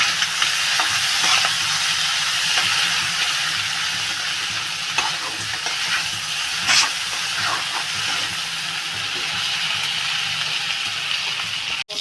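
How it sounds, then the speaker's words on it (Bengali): Close, loud sizzling of prawns frying in a pan, with a continuous steam-like hiss and repeated spatula strokes scraping and stirring at an uneven pace, no one speaking. "আমার চিংড়ি মাছটা প্রায় ভাজা হয়ে গেছে"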